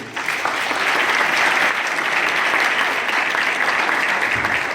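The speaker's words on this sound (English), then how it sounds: "So a big applause." Loud, continuous applause fills a hackathon opening ceremony as the crowd cheers the organizing team, a thick, steady roar of many hands starting sharply and holding strong throughout.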